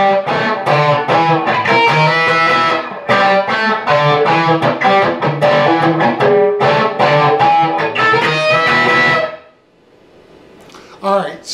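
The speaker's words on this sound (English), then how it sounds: "Guitar 2 for the intro does this," A distorted electric guitar plays the chugging, rhythmic intro riff of a song for about nine seconds, then stops abruptly, leaving a faint ringing tail and a short final strum.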